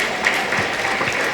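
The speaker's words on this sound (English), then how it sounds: "Can we have a huge round of applause?" Audience applause at a youth language training session, a dense steady wash of clapping with no gaps across the short stretch.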